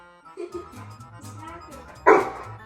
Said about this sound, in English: No, Axel, no barking.